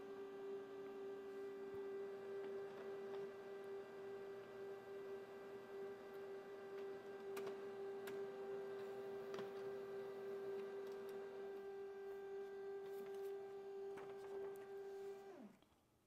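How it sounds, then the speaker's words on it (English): An HP Color LaserJet Pro M283 laser printer prints a page: a quiet steady mechanical hum with a sustained tone and sparse light ticks runs for about fifteen seconds, then winds down and stops; no talking. "So the printing starts right now."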